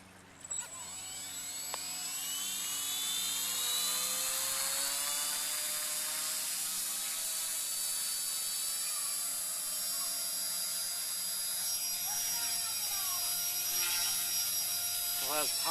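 A Blade mCPX brushless micro RC helicopter with a fiberglass canopy spools up and flies on test, its high, steady motor and rotor whine sustained throughout and fairly close, with shifting tones as it maneuvers.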